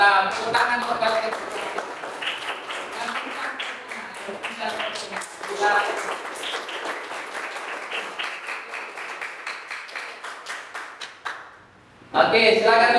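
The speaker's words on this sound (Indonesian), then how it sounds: "Tepuk tangan untuk kalian." Classroom students applauding in a jurisprudence lesson, a long stretch of dense clapping that thins toward the end before a brief silence, with voices mixed in.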